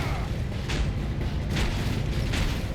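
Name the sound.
explosions in video game Red Faction Guerrilla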